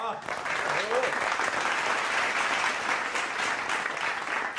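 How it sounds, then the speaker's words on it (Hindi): An audience at a televised Hindi comedy poetry show on stage breaks into continuous, loud applause, a full crowd clapping steadily from start to finish, with a voice briefly audible at the beginning. "इस पे एक और ताली हो जाए।"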